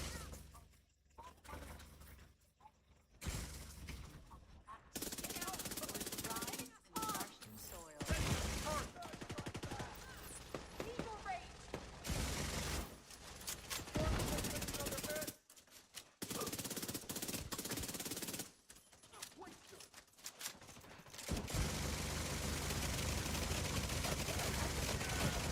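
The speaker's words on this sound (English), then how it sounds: "Look how ridiculously strong turrets are." Automated turrets fire in bursts in the shooter game The Division 2, rapid and fairly loud in stretches broken by short silent gaps, with a voice talking at times.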